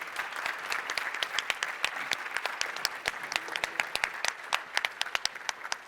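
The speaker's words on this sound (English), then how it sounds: "So if I could ask one more round of applause, please" An audience at a Reef Company event gives another round of applause for the speakers, dense clapping with distinct sharp individual claps standing out, holding steady throughout.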